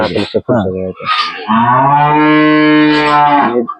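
Cows in a dairy cattle shed give a loud, close, drawn-out moo after a few short grunting calls, with no one talking over it.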